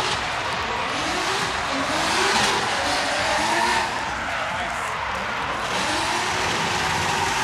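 Drift car at a Budmat drift show competition accelerating with a sustained loud tire squeal and engine roar, a dense continuous screech with crowd noise in the background.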